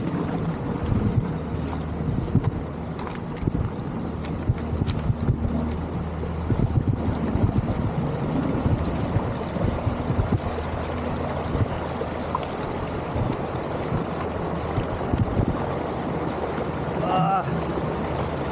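A vehicle driving through shallow water on a very steep bypass road on Mt. Timbak, with a steady engine rumble and water washing and splashing around it throughout, close and continuous.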